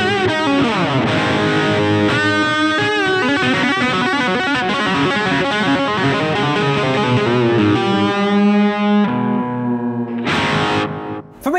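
A Blackstar mini guitar amp plays a distorted guitar tone with tape echo delay, loud sustained chords and ringing notes repeating through the echo, ending with a brief burst and a sharp cut-off.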